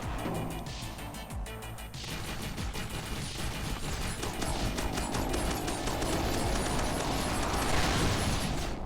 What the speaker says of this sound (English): That was just 2 rockets directly in my dome